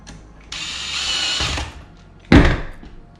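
A power screwdriver drives screws while a replacement battery is fitted into a Dyson V8 cordless vacuum: a steady whirring run of about a second, then a short, sharp mechanical burst.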